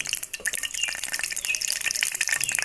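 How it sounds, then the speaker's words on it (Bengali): Bay leaves, cinnamon and cardamom sizzle in hot oil, giving a close, steady crackling hiss with quick spits and pops and no voices. "তেল গরম হয়ে গিয়েছে এখন আমি দুইটা তেজপাতা দিব দুটো দারচিনি ফাটিয়ে রাখা এলাচ তিনটে"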